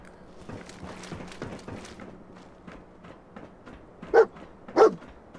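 In the Fallout 4 video game, the dog companion Dogmeat gives two sharp barks close by near the end, following quieter footsteps and ambient game sounds.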